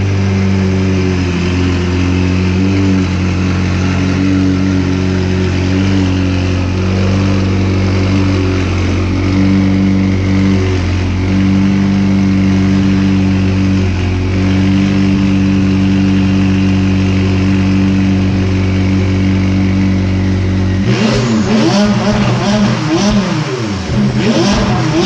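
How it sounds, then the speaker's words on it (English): A McLaren car engine runs with a steady, loud drone while it is driven back into the home garage, then rises into a rougher, revving burst near the end. "I guess we'll bring the McLaren back inside"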